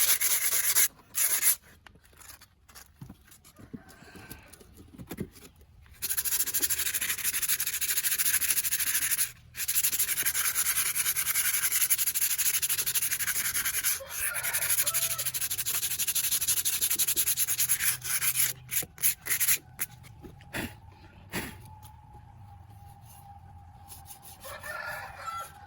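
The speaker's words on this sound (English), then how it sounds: "Sand it using fine sandpaper to remove even the remaining hardened cement." Fine sandpaper scraping over a hardened cement surface in long, steady rubbing strokes with short pauses between passes, close and loud, while a rooster crows faintly in the background.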